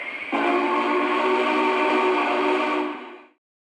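Model Union Pacific 4014 steam locomotive with a Legacy sound system starting up, sounding a sustained multi-tone steam whistle that holds steadily and then fades away.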